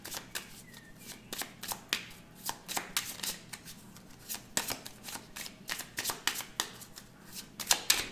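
A deck of tarot cards is shuffled and cut by hand in a quiet room, giving repeated soft riffling flutters and papery slaps that come in short uneven bursts, close up and alone.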